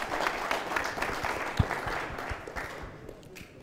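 Students in a Kiswahili class at Upperhill Secondary School applaud a classmate with a steady, fairly soft patter of clapping that slowly thins out over a few seconds, with one sharper knock partway through.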